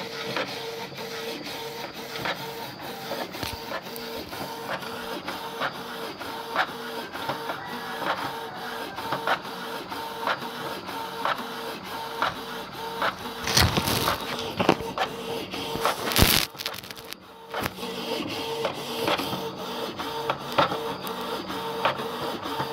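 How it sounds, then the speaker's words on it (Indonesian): A Canon Pixma G2570 inkjet printer runs its mechanism up close, a continuous whirring with rhythmic clicks and a couple of louder rattling bursts, no talking. "Cara kerja printer yang paling aneh."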